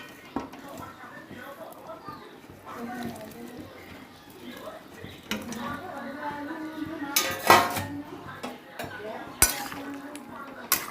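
Taro pieces tipped into a pot of boiling potatoes and stirred, with scraping, clinks of a utensil against the pot and bubbling, close by, while someone talks over it.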